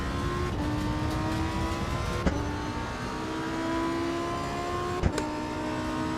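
A race car engine in the Assetto Corsa Evo racing game drones steadily at high revs, the pitch shifting with sharp gearshift clicks at intervals, loud and continuous with no voices.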